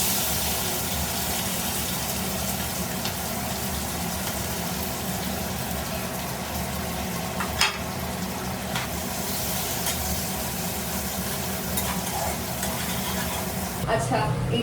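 Capsicum and onion chunks frying in a pan for chicken Manchurian give a steady, close sizzle with soft stirring scrapes throughout, including a brief louder clatter midway.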